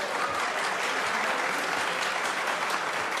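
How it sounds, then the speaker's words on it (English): Sustained audience applause in a hearing room during a session on Kosovo, steady and evenly dense clapping from many people at moderate distance, with no voices over it. "will you ask both sides to refrain from applauding so we can get on with this?"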